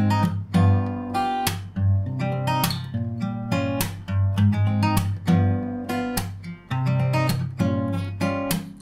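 Close, bright acoustic guitar chords strummed in a lively, syncopated pattern, with crisp muted strokes punctuating ringing chords throughout.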